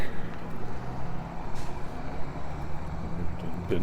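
A city maintenance truck rolls past on an urban street, its engine rumble swelling and fading with a brief hiss midway, while traffic noise fills the background.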